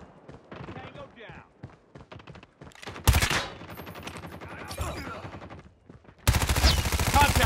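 Gunfire from the Call of Duty video game, with loud broadband bursts of rapid automatic shots at about three seconds and again near the end, between quieter stretches of game sound and speech.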